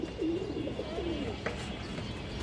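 A pair of pigeons coos softly in low, rolling, warbling calls, with a faint chirp near the end over steady background noise.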